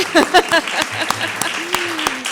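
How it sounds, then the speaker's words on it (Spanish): Audience at a university talk applauding an actress in conversation, scattered clapping running under a voice speaking, with sharp individual claps standing out. "no paran los aplausos"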